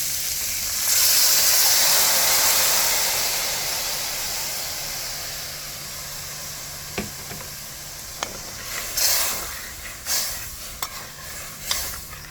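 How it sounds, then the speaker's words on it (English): Coconut milk pours into a hot pot of Jamaican gungo pea stew, giving a loud, steady sizzling hiss that slowly fades, followed by a few sharp clinks and stirring knocks near the end. "So we're going to go ahead now and add our coconut milk."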